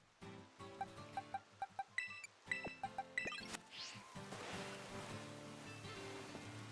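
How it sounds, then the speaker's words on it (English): Rain in the Pokémon Violet video game, a soft broad wash of falling rain that builds up under game music and blip chimes and then carries on steadily. "Oh, it's raining."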